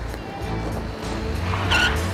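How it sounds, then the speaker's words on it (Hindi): A car brakes suddenly and its tires skid, a loud engine roar rising into a short high squeal near the end. "उसने अचानक ब्रेक लगाया"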